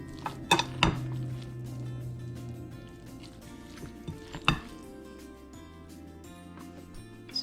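Meatloaf mixture pressed into a baking pan, heard as scattered clinks and thumps of utensil against pan, a few sharp knocks near the start and middle over a steady background hum.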